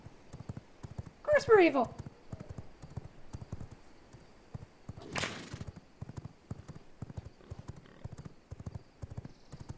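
Horse hooves clip-clop at a steady, even trot in a vampire steampunk video game, with a brief whinny near the start and a short whoosh midway, all under ongoing conversation.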